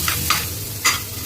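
Mashed sweet potato stirred into hot ghee in a heated kadhai, three short scraping, sizzling bursts with quiet pauses between, close and fairly loud, no voices.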